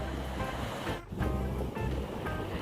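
Ocean surf at Myrtle Beach, a steady close roar of breaking waves with constant wash and hiss and a brief lull midway, with no voices.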